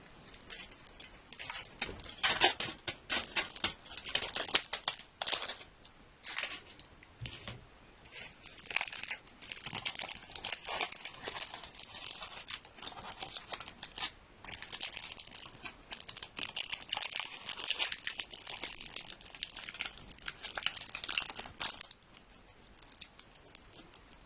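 Scissors snipping away excess leaf for a leaf artwork, a steady run of close, crisp cuts and crinkling leaf rustles, unbroken and without talk.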